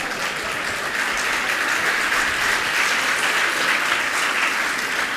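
Audience at a Jain religious discourse with a question-and-answer session clapping together in a dense, steady burst of applause that fills the space for several seconds, loud and continuous with no speech over it.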